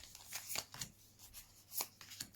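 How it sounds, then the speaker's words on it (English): Muse Tarot cards are given a quick hand shuffle, a few soft, separate papery riffles and taps up close in a quiet room, with short pauses between them. "I just want to give it a good shuffle."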